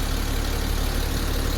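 A vehicle engine idles steadily after a morning start, a low continuous rumble with a faint regular pulse beneath broad hiss, with no pauses and no voices.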